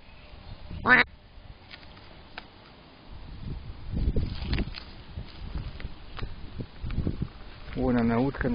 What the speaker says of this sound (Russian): Она прям начала крякать.